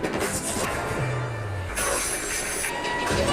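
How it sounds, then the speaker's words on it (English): A real New York subway train rolls through a TV show scene, a loud, steady rumble and rattle of cars on track with a brief tonal whine partway through, no talking. "they're actually using like real New York trains"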